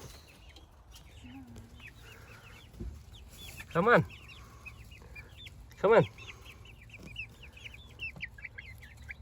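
Backyard chickens outdoors clucking softly and steadily, with scattered chirps from young birds, while a person coaxes them; two short louder bumps stand out against the low, quiet background.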